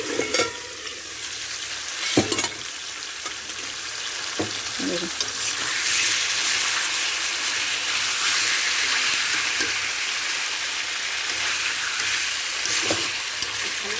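Magur catfish fries and is stirred in a pan, a steady loud broadband sizzle running throughout with occasional clinks and scrapes of the spatula against the pan.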